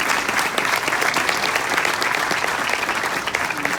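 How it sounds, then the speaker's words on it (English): Sustained audience applause at a law school distinguished alumni award ceremony, dense steady clapping from a large crowd lasting several seconds without any talk. "A little round of applause for you, Dad."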